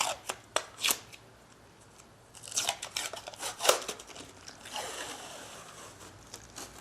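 Dried glue being peeled off a table tennis rubber, a quiet series of crisp crackling, tearing snaps in irregular bursts, close up and faint, with no voices.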